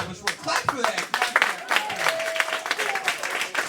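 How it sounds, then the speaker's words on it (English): An audience at a high school poetry slam claps steadily in a dense burst of applause, with voices cheering and calling out amid the clapping. "Clap for that!"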